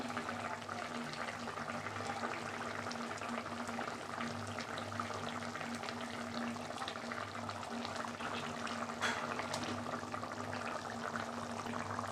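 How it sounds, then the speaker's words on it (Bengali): Rohu fish curry broth with potato and eggplant bubbles in a pot at a steady rolling boil, a continuous close, soft gurgle with a low hum behind it and no talking. "ঝোলটা ফুটে গেছে এবার মাছগুলো দিয়ে দিলাম"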